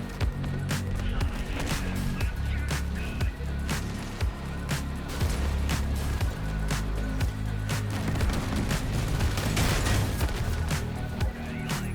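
Overcharged Assembler weapons fire in a heavy Crossout vehicle build, a dense run of loud, sharp bursts repeating quickly over a constant engine rumble, with no pauses and no voices.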